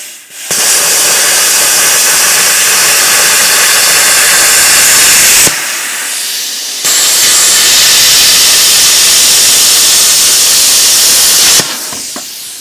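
An Arccaptain CUT 50 plasma cutter slices galvanized angle iron in two loud, sustained roaring hisses, each several seconds long, separated by a short pause.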